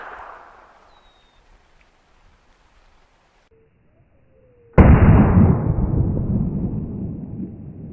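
.380 ACP pistol fired from a 3.5-inch barrel into water jugs and wood at close range: one loud, abrupt report after a quiet stretch, followed by a long, broad rumbling decay lasting several seconds.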